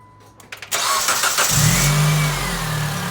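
Car engine with new mounts cranks briefly after a few clicks, catches and settles into a loud, steady close idle.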